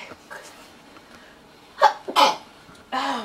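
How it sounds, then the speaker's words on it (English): A person sneezes close to the mic in a kitchen while cooking air fryer pork chops, a sharp burst followed by a second, then a short spoken remark. "Oh, sorry, I had to sneeze."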